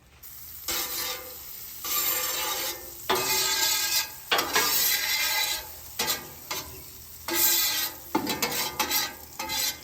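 Butter and about six eggs sizzling on a Weber gas grill griddle insert set on low, close frying hiss in repeated bursts broken by short quiet gaps and metal spatula scrapes, no talking.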